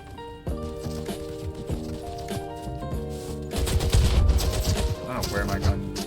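Rapid gunfire from a first-person video game: dense bursts of shots that swell into a loud, heavy volley near the end, over a steady backdrop of in-game music tones.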